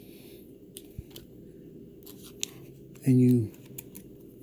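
Blowgun dart material trimmed off at the top of the barrel, a single short, loud snip partway through, amid faint handling noises and brief speech.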